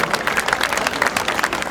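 An audience at the opening ceremony of a regional student sports week in NTT, Indonesia, claps in dense, continuous applause that holds steady throughout.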